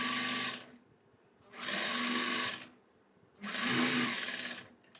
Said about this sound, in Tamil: இப்போ நம்ம வந்து ஸ்டிச் பண்ணிக்கலாம்.